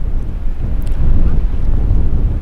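Strong gusts of wind batter the microphone in a cold rainstorm in the Ahaggar mountain range of Algeria, a loud, continuous low roar that swells and buffets throughout with no talk.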